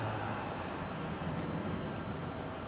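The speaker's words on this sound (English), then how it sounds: "This one that just took off," A Delta Airlines CRJ 900 LR regional jet taking off at Raleigh-Durham sends a steady, moderately distant engine roar and rumble without breaks, with no talk over it.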